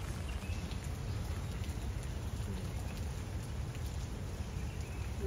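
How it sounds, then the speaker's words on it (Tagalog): Rain falling in Kuwait, a steady, even hiss of drops that holds at the same level throughout with no voices. "Ayan po yung ulan dito sa bansang Kuwait"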